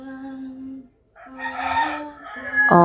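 A rooster crows loudly nearby in a long, drawn-out call, followed by a second crow and some clucking.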